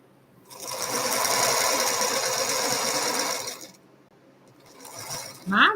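Domestic sewing machine running a seam in one steady close burst of about three seconds, then stopping, followed by a quieter mechanical rattle and a short sharp clunk.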